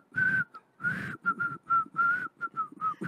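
Someone whistles a short, wavering rendition of the Andy Griffith Show theme nearby, in several breathy phrases with brief pauses between them, with no talking.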